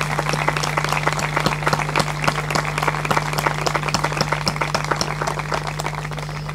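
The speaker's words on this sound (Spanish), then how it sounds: "quien le pide un fuerte aplauso" Sustained applause from a crowd at the opening of a folk music gathering in Cerrito, Entre Ríos, Argentina, dense clapping throughout with a steady low hum underneath.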